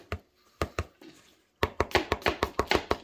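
A folding knife blade chops into a cardboard box in a rapid series of crisp, close impacts, a few spaced strikes at first, then a quick steady run of about ten sharp chops.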